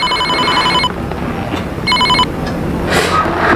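A telephone bell rings in two short electronic bursts, the second briefer, over a steady background hum in a house in a Sundanese comedy sketch.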